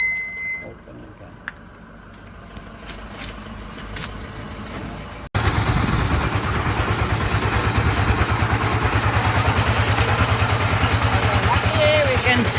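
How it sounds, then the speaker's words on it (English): A crusher grinder for tiles, red bricks, clay and pigment powder in Sri Lanka runs quietly at first, then abruptly switches to a loud, rapid, continuous grinding clatter at higher speed. "Now this is turning at a much higher speed, and there we have the grinder."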